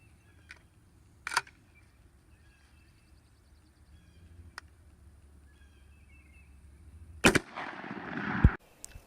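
Shotgun fired outdoors with Kent Fasteel 3-inch 1 1/8 ounce number 4 steel shot: a single sharp, loud blast late in the clip after quiet ambient noise and a couple of faint clicks, followed by a short rumbling tail.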